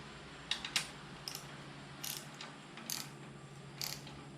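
A ratchet is worked by hand to snug up bolts on a Triumph Speed Triple 1200RS motorcycle, with several short clusters of close, crisp clicks separated by brief gaps.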